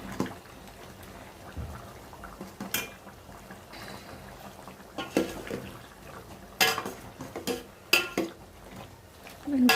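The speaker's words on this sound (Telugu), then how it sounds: "సరిపడంత చికెన్ మసాలా వేసుకొని ఒకసారి కలుపుకుందాం." Country chicken curry seasoned with chicken masala simmers in a pot, a steady low bubbling broken by several sharp scrapes and clanks of a spoon stirring against the metal.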